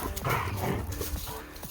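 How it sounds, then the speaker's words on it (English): Dogs scuffle and fight with each other in a garage or yard, a short burst of growls, snarls and yelps mixed with scrabbling paws at close range. "Watch the dogs attack each other."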